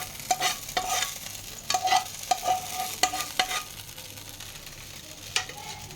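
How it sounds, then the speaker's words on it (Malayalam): Cashews and raisins fried in ghee and stirred with a metal spoon in a pan, giving a steady soft sizzle broken by a series of sharp scraping and clinking stirs close by, with no voices. "നമ്മൾ അണ്ടിയും കിസ്മിസും വറുത്ത് കോരി എടുക്കാൻ വേണ്ടിയിട്ട് പോവാണ് കേട്ടോ"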